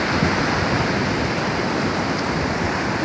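Sea waves roll in as a steady, dense roar of surf, loud and continuous with no clear breaks and no voices.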